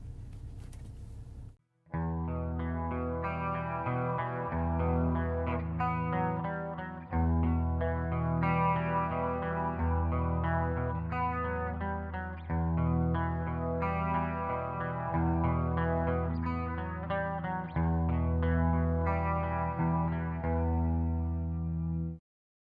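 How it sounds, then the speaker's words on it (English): Clean electric guitar chords from the bridge pickup of a 1985 Gibson Explorer ring out one after another in a steady strummed progression, bright and sustained with a touch of chorus shimmer. "let's check out the clean tones of the Pegasus bridge pickup"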